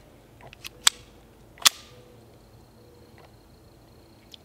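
Two sharp, quiet cracks of suppressed subsonic .22 LR rounds from a Beretta 21A Bobcat pistol, spaced under a second apart, followed by faint clinks and a small tick, with no talk.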